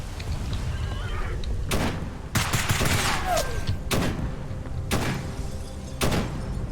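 Loud, sharp gunshots ring out in a first-person shooter game, several separate blasts with echoing tails spaced a second or so apart over constant background noise.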